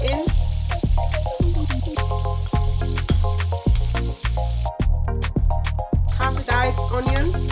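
Garlic cloves sizzle in a hot pan for salmon with creamy lemon sauce, a steady frying hiss broken by regular clicks and sharp taps repeating about once a second.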